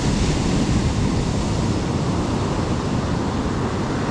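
Ocean waves wash steadily onto Bakung Beach in Pacitan, a continuous broadband roar of surf with some wind noise, loud and close, as a boat is pushed out from the shore.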